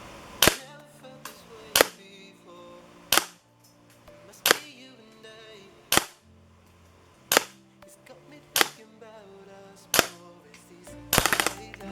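A GHK G5 gas blowback airsoft rifle fires single sharp cracks at a steady pace, roughly one every second or so, then a fast burst of rapid shots at the end, loud and close with no voices.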